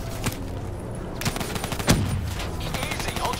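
Automatic gunfire in Call of Duty Black Ops 3 during a pinned-down firefight: loud bursts and sharp cracks ring out across the whole stretch, with one heavy blast standing out midway.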